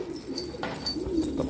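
Pigeons cooing on a rooftop loft, a soft low murmuring coo close by against a faint outdoor background, with no voices.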